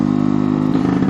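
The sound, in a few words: new two-stroke engine throttle blip, revs falling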